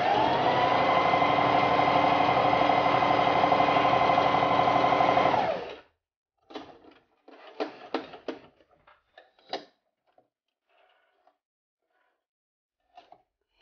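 A Singer Heavy Duty 4452 sewing machine runs a twin-needle straight stitch in one steady, loud mechanical whirr for about six seconds, then stops, leaving a few light clicks and handling taps.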